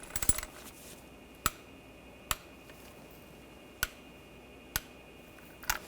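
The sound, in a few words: torque wrench tightening bolts to 16 foot-pounds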